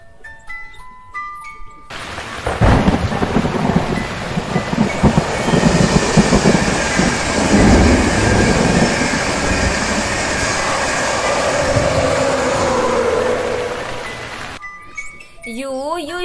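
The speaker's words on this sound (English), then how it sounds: "T is for train." A train rumbles along the rails with clattering wheels, building loud and close for several seconds before cutting off, with short musical tones at either end.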